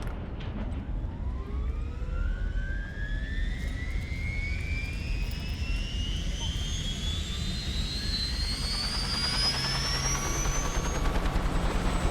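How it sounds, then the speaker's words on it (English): A helicopter in the video game Wasteland 2 lifts off, its roaring engine rising steadily in pitch, whining higher and louder over a continuous low rumble, with no voices. "As their helicopter rises above Ranger Citadel"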